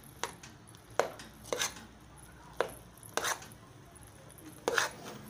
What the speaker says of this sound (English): Mix it all up together again.